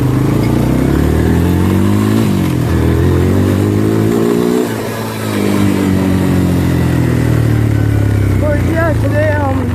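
Motorcycle on the move, heard as a loud, continuous engine drone with rising and falling revs and heavy wind rumble, with a brief dip in the middle.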